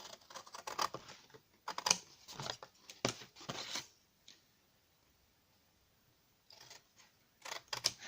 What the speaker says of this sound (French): je vais toujours découper de toute façon, puis après je vous montre